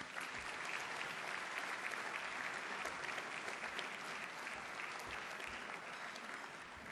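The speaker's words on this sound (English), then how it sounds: "now we can have a round of applause" Audience applause at an open interview event: sustained, even clapping from a large crowd, continuous throughout and heard from a distance at low level.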